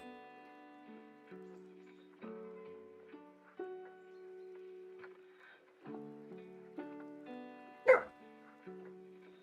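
A dog barks and yips faintly in the background of a livestream, in scattered short bursts with one sharper, louder yelp near the end, otherwise alone with no talk.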